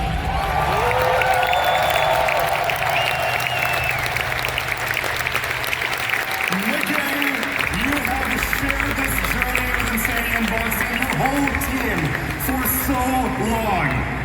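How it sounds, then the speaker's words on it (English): A packed arena crowd at The International 13, the Dota 2 championship in Denmark's Royal Arena, cheers, claps and whoops in a loud, continuous roar, with an announcer's amplified voice rising over it in the second half. "All the people in the arena cheering."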